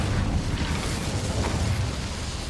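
A fire spell cast in Hogwarts Legacy sets off a loud, sustained fiery roar, dense and rumbling without letup, with no voices over it.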